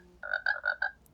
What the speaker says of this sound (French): Oui, la grenouille.